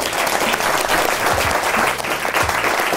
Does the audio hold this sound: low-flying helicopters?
no